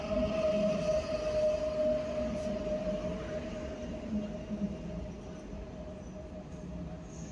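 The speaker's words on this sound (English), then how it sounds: "here's our train arriving" A Polish-built Pesa Dart intercity train pulls into a platform at Warsaw Central, giving a steady rolling rumble with a sustained metallic whine that eases slightly as it slows.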